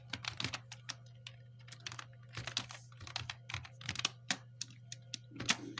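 Typing on a computer keyboard while filling in an online form, with a steady run of quick, close key clicks, irregular bursts and brief pauses, over a faint low mains hum.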